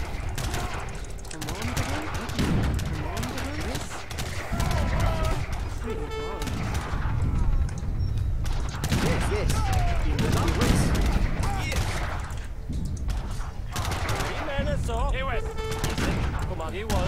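Cannon fire and volleys of musket gunfire from an Age of Empires 3 treaty match, dense and continuous bursts and booms throughout, with people talking over the battle.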